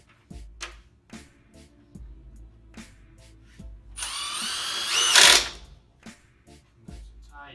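A power drill drives screws into the 4-inch vent on a replacement water heater, with short whirring bursts and one longer, louder run near the middle, spaced by quiet pauses and soft clicks, close by.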